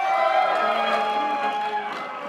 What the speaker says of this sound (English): There were some cheers.